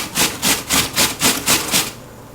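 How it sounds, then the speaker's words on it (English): A peeled Fuji apple is shredded on a grater for Japanese curry, giving seven rhythmic, even rasping strokes close up, each a bright scraping swish, with no talk over them. "Peel off the skin and shred the apple by using a grater."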